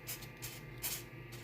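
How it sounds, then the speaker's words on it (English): Aerosol spray can laying rubber undercoating on a Ford 8.7 axle, a soft, steady hiss pulsing in short bursts, fairly quiet, with no talking. "We're going to just spray that on"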